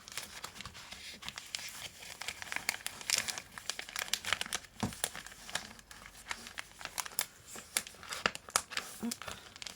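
Scissors cutting through plastic binder sleeves, a busy run of crinkling, snipping and rustling plastic, close and moderately quiet with no pauses.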